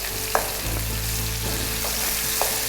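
Turmeric, ginger garlic paste, curry leaves and green chillies fry in hot oil for a chicken curry, a steady broadband sizzle with a couple of sharp utensil clicks against the pan.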